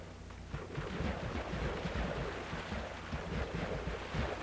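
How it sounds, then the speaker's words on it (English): Minecraft farm items pushed by pistons splashing into water, a busy churning wash of many small splashes running continuously and fairly loud, with no voices. "You can hear all of the items hitting the water."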